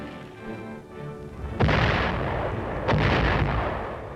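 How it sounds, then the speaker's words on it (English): Mortar fire in a military setting: two heavy, booming blasts about a second apart rise over a low rumbling background, each with a rolling decay. "Mortar fire is one of the infantryman's greatest enemies."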